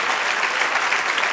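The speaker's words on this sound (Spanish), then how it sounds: "Dale otro aplauso al Señor" A church congregation applauds steadily, a dense, continuous clatter of many hands close by, holding at an even level for its whole length.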